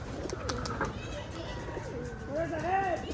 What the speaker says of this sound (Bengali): এটা হলো সুরকি টানা বাজির কবুতর